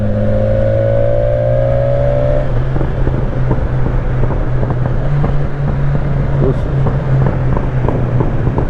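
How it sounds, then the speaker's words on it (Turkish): A BMW S1000XR motorcycle on its stock exhaust revs and pops while riding, a steady close engine drone with scattered crackles under heavy wind noise. "Bu da egzoz patlatıyor ama benimki kadar değil."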